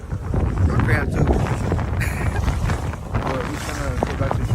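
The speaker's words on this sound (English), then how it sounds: "it's getting windy" Wind blows across a small fishing boat on Tomales Bay, a loud, steady low roar buffeting the microphone with slight rises and dips, while indistinct voices sound faintly beneath.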